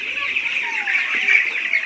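Chickens cluck and chatter steadily at close range, a continuous busy flock sound with no talking.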